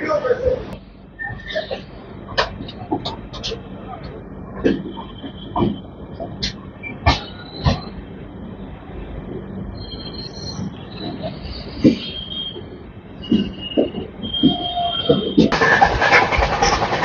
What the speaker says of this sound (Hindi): हमारी ट्रेन डिपार्चर ले चुकी है